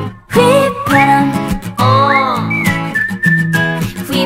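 Bright, clear whistling from the acoustic version of a song, a close melodic line carried over the music.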